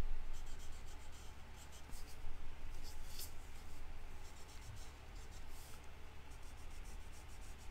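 Blue Stampin' Blends alcohol marker colouring around a stained-glass design on vellum paper, a soft continuous scratchy rubbing close up and fairly quiet, with no talk.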